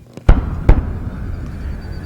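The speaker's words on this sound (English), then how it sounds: "those twin sonic booms that they always hear at the Kennedy Space Center when an orbiter was coming home" Twin sonic booms from the space shuttle orbiter returning home on mission STS-122, heard as two sharp, loud booms about half a second apart with a rumbling tail.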